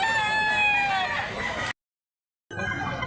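A rooster crows loudly and close at a chicken market in Cebu, a long strained call followed by a sudden cutoff, then more fowl noise resuming.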